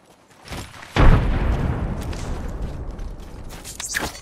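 A frag grenade goes off in Apex Legends: a soft click or thud, then a heavy booming blast that rings and decays over a few seconds, followed by faint rattles.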